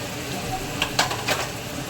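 Spices stirred through tondli (ivy gourd) bhaji in a frying pan, a soft steady sizzle with a few brief scraping clinks of the spoon against the pan.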